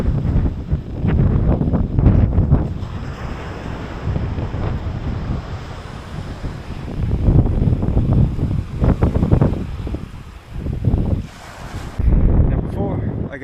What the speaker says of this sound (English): it's so windy on the coast here